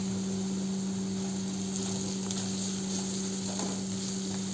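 Masala spices (goda masala, red chilli powder, turmeric, onion-garlic masala) being stirred in a frying pan for brinjal bhaji, a steady sizzle with soft scraping strokes over a constant electrical hum.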